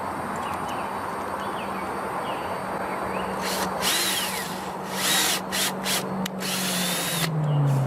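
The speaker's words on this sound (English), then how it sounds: "Then I'll run my screws through here." A power drill whirs steadily at close range while driving screws into wood for a DIY chicken waterer build, with a few short louder bursts near the end; no one speaks.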